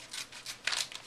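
Scissors snip through the top of a foil package, a few quick crisp crinkly cuts close by, with no one talking.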